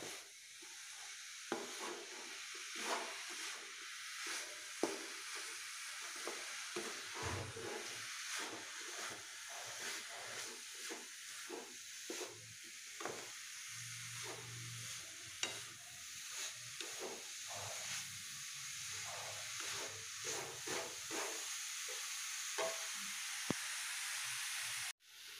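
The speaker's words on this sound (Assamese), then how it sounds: "এয়া নাৰিকলখিনি গুড়ৰ লগত প্ৰথমতে ভাজি আছোঁ" Grated coconut frying with jaggery in a pan, a soft steady hiss and sizzle broken by light stirring scrapes, quiet and close with no talking.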